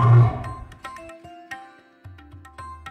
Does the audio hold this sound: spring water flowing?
no